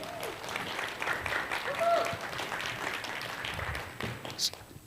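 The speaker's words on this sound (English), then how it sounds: "Let's give her a round of applause." An audience applauds a woman at a motivational speaking event, a soft, diffuse patter of clapping heard from a distance, with faint voices mixed in.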